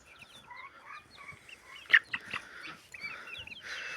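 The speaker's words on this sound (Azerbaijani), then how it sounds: "Narıncımız bu da xoruzdur" An orange rooster in a backyard with ducks, close by among chirping birds and clucking poultry, gives a few short, sharp calls that stand out against quiet background chatter.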